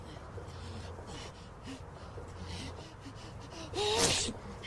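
A quiet, murky background gives way to one short, sharp sneeze near the end, set off by a feather pillow, loud against the faint surroundings.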